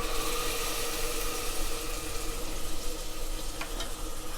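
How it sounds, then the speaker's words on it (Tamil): Ground masala paste poured onto sautéed onions in a pan for tomato rice sizzles steadily and loudly close by, a continuous hiss with no speech. "வெங்காயம் வதங்கிடுச்சு. இப்போ நம்ம அரைச்சி வச்ச மசாலாவை ஊற்றிக்கலாம்."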